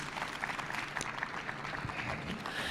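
An audience applauds poet Kevin Young at a book-week reading in a bar venue, a steady, moderately faint wash of many hands clapping throughout, with no pauses.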